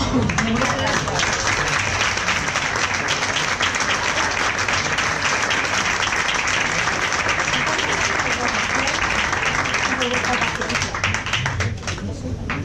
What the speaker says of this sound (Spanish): Damos un aplauso a Beatriz